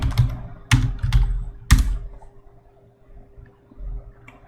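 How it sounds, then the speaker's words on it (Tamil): Several bursts of keystrokes on a computer keyboard while typing into a browser search bar, close and fairly loud, with brief pauses between clusters and a quieter tap near the end. "நெக்ஸ்ட் வந்து சர்ச் பாரில் வந்து Napkin AI சொல்லி டைப் பண்ணுங்க"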